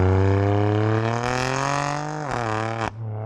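A 520 bhp BMW M4 drives in Sport Plus mode with comfort suspension, its loud, steady engine drone close up and holding a firm pitch, briefly rising, then dropping sharply with a quick shift near the end.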